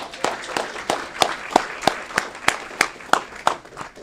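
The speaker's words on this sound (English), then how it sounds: "How about a round of applause for Prisco's?" At an Aurora city council meeting, a small group claps in a steady, evenly spaced rhythm of about three claps per second for roughly four seconds.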